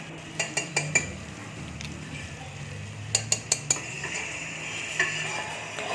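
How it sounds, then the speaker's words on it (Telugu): Spices stirred into tomato rice in a metal pan: a quiet background sizzle punctuated by clusters of sharp spoon taps and clinks against the pan, one burst early, another near the end. "ఇవన్నీ వేసి ఒక్కసారి అట్లా మిక్స్ చేయాలి"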